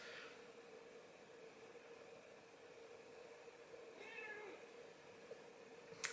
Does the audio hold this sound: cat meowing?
yes